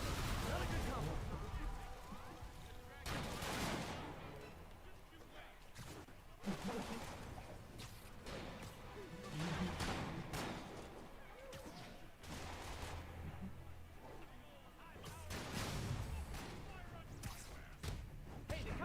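Sniper rifle shots in Spider-Man on PS4, fired by escaped convicts, crack out as repeated loud blasts every few seconds, with game effects and voices heard between them.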